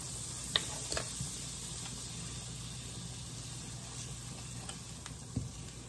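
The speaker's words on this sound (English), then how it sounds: "Now that my butter's melted, I'm gonna add a tablespoon of flour." A butter and flour roux cooks in a pan, giving a quiet steady sizzle with a few faint clicks and scrapes, no voices.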